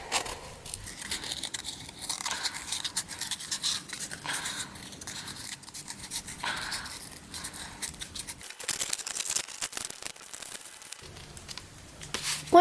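Scissors snip and crunch through a cardboard circle for a fabric pom-pom, a close run of dry cuts and crinkling handling noises at a steady pace, with a brief quieter pause before the snipping resumes.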